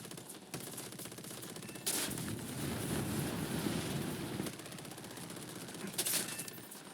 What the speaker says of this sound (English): There is somebody with a really big, not big gun, but a really nasty gun on my tail. It does a bit of damage, and it is rather fast at shooting.